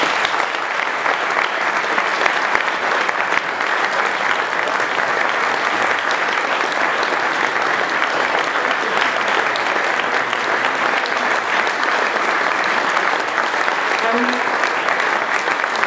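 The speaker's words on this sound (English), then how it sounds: "join me in giving a huge round of applause" Sustained, dense applause from an audience at an award presentation for the overall winners of a case study competition, loud and steady throughout with no break.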